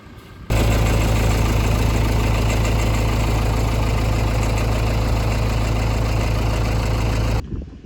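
A tractor engine used for spreading fertiliser on an Australian banana farm idles loud and close, a dense steady rumble that starts abruptly and cuts off near the end.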